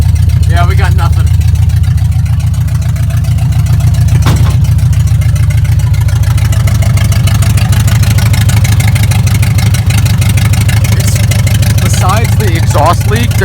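A 1966 International Scout, revived after sitting 36 years and showing 40,000 original miles, idles smoothly. A close, loud, steady low engine rumble runs throughout, with a person talking briefly over it.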